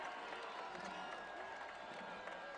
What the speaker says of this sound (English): The crowd coming alive